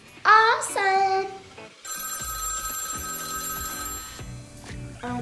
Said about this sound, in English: Why is the toy school phone ringing on a Saturday?